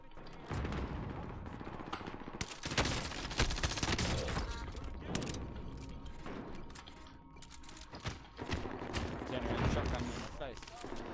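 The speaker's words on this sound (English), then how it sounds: "It wasn't a shotgun, mate. It's a Kar98." Rifle fire from a Kar98 in a multiplayer shooter game, with dense, repeated gunshots and booms, plus other weapons firing around, over continuous battle noise and occasional voices.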